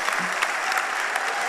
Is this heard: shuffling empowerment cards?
no